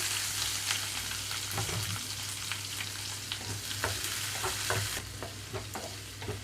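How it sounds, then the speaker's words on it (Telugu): Continuous sizzling of onions frying in hot oil, with occasional stirring scrapes and crackles, close and steady. "ఇక్కడ ఉల్లిపాయలు కొంచెం కలర్ మారే వరకు వేయించుకోవాలండి"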